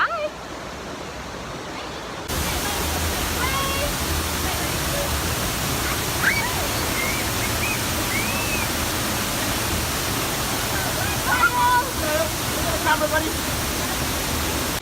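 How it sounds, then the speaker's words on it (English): A waterfall on a hike in the Brecon Beacons sends up a steady, loud roar of falling water that holds unbroken for the whole stretch after a brief quieter opening, with a few faint chirps on top. "You can actually walk behind the waterfall."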